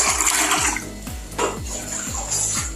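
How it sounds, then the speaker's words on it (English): Hot water from a kettle poured into ordinary water and mixed in a bowl, a close continuous splashing pour with repeated sloshes and light clinks of the container. "So this is my water inside the kettle. I'm going to pour it."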